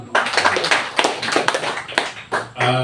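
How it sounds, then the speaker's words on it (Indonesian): A small group claps at a youth entrepreneurs' launch event in a villa garden, a few uneven rounds of close hand claps with a brief pause before a final burst. "Tepuk tangan dulu."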